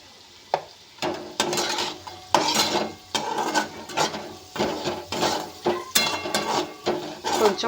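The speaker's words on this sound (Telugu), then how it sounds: "వేగనివ్వాలి ఫ్రెండ్స్, బాగా వేగనివ్వాలి" Ingredients fry in a pan while a spoon stirs and scrapes against the metal in repeated strokes, giving rhythmic clattering scrapes over a soft sizzle, close by and with no talking.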